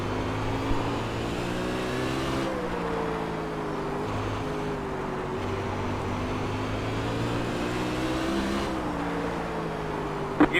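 Sprint car engine in iRacing at Lanier at night, a steady droning roar with shifting harmonic pitch as the car accelerates and eases through laps, close and continuous with no talk.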